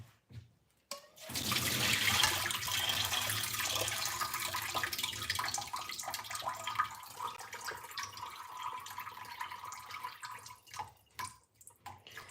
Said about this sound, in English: So I am going to strain the boiled cabbage.